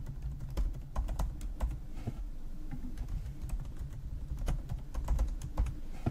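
Fingers tap quickly and irregularly on a computer keyboard while entering a password. The clicks come in uneven bursts over a soft background hum, and no one speaks.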